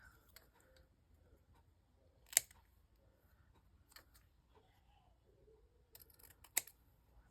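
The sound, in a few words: scissors cutting out a paper name tag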